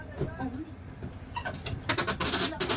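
A dog whimpers and yips amid talking voices and household noise, the small whines breaking through the chatter.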